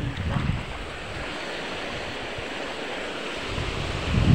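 Ocean surf washing onto an island beach in a continuous broad roar with gusts of wind buffeting the microphone, steady and fairly close throughout.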